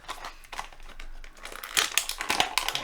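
Tape is pulled and peeled off Masters of the Universe Origins action figure packaging, close-up, with crinkly tearing bursts and plastic crackle that grow louder toward the end.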